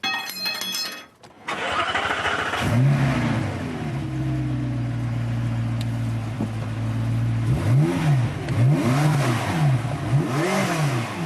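A McLaren sports car engine cranks and catches, then idles with a deep exhaust rumble before a series of sharp revs rising and falling, loud and close.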